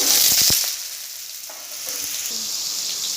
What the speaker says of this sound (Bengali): কড়াতে সাদা তেল দিয়ে দিয়েছি, তেলটা গরম হয়ে গেছে, দিয়ে দিচ্ছি কেটে রাখা আলু